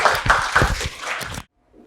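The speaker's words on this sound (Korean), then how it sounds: "박수 한번 크게 쳐주세요" An audience claps together at an orientation for Korea National Diplomatic Academy exam candidates. The applause is dense and fairly loud, then stops abruptly, leaving near silence.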